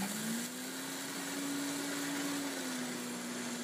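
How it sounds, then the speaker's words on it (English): A Vitamix blender whirs through rolled oats, ramping from low to high speed with a steady motor whine that rises in pitch, then holds a constant loud, close drone with no talking. "I'm going to put those in the Vitamix, and I'm going to blend them"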